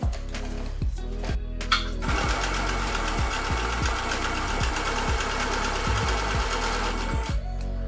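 A sewing machine stitches a pocket onto a t-shirt, its rapid mechanical chatter running in several bursts separated by brief pauses, close and loud.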